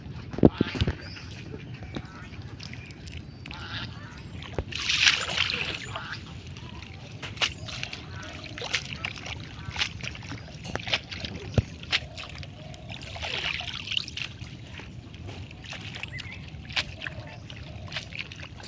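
Leafy greens are washed by hand in water outdoors, giving intermittent splashes, sloshes and trickles at moderate distance, with scattered knocks and faint background voices.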